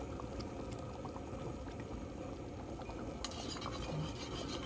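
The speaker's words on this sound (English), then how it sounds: "Let that cook around there a little bit, simmer around" Food simmers in a pot over lowered heat in an outdoor cooking cabinet, giving a faint, steady bubbling hiss with a few soft stirring scrapes.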